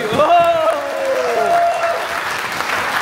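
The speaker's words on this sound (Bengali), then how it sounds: "আমি যখন হাতটা উঁচু করবো, আমি চাই জোরে হাত তালিয়ে আমরা প্রোগ্রাম শুরু করতে" An audience at a community programme in Lappeenranta, Finland breaks into loud clapping on cue, with a few raised voices calling out at the start before the applause settles into a dense, even patter.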